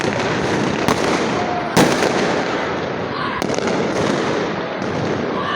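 Fireworks burst over Old Dhaka on New Year's night welcoming 2025. A dense, loud roar of crackling never lets up, broken by several sharper bangs.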